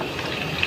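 Water gushing steadily from a tap into a large cooking pot, about 90 litres for a big batch of tomato rice, a brief continuous splashing pour with no voices.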